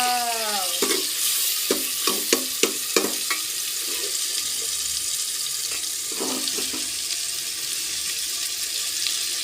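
Kosha masala spices frying in a pan in a home kitchen for Bengali cooking, a steady broadband sizzle with scattered metallic clanks and scrapes of stirring, close and fairly loud, with no talking.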